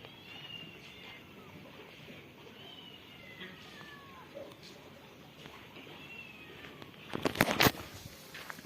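A village cat gives several faint, drawn-out meows at a distance over outdoor background noise, followed near the end by a sharp close clatter.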